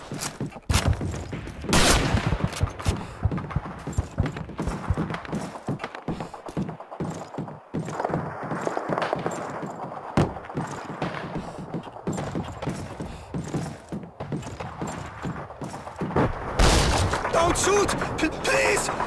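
Rapid gunfire in the Call of Duty 2 video game, aimed at British troops during a World War II prisoners-of-war mission, crackles in dense bursts throughout with loud shots near the end, while voices shout over the battle.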